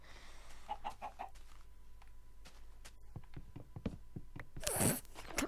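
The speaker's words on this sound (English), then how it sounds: "chicken!" A Minecraft chicken gives a few short clucks, fairly faint against quiet game ambience, followed by scattered clicks and a brief rustling burst.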